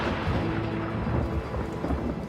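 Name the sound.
rain and thunder in the desert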